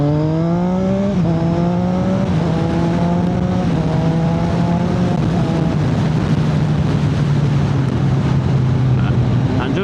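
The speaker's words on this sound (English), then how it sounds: "And just like that, we're up to fifth gear without using a clutch." A motorcycle engine upshifts through the gears from first to fifth without the clutch, its steady, loud drone dropping in pitch at each of several evenly spaced shifts and then climbing again, heard alone with wind noise.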